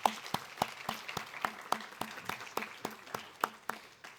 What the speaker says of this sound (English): So please join me in giving everyone a round of applause.